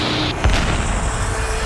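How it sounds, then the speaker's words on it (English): A small plane explodes on impact with a big jet, a sudden loud boom that cuts through a steady roar of engine noise and then fades into a sustained rumble. "There's an explosion on impact"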